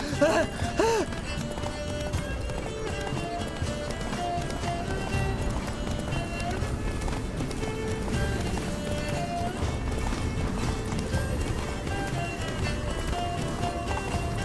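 Roach, a horse in The Witcher 3: Blood and Wine, gallops with steady clip-clop hoofbeats and a brief whinny at the start, under a dense music score and some talk.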